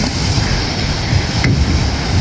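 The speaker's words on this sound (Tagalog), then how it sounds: "malakas yung alon" Strong ocean waves at a beach wash in as a steady, loud broadband roar with wind buffeting the microphone, surging slightly midway through, with no voices.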